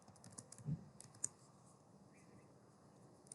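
C++ code is typed on a computer keyboard, a quiet sparse run of soft key clicks with one louder tap, close and alone.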